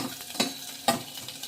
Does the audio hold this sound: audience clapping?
no